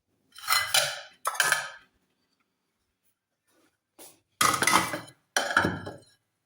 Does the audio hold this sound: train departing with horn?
no